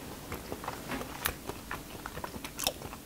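Close, crunchy biting and chewing of raw beef dipped in runny egg yolk, Korean mungtigi style, with several short wet bites and crackles spread over a few seconds and no talking.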